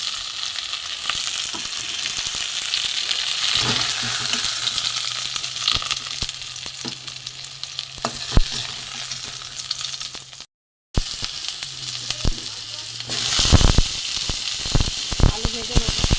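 Food fries in a pan with a steady, close sizzling hiss, punctuated by sharper crackles and a few utensil knocks, with a short dropout partway through.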